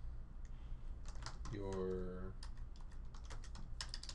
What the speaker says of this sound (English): Here you can type a title.